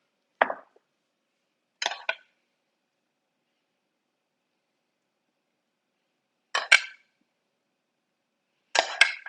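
A metal spoon serves gravy onto turkey and stuffing: four short, separate wet clinks and plops spaced several seconds apart, close and moderately soft, with silence between.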